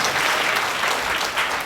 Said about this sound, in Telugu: చప్పట్లు కొట్టు ఒకసారి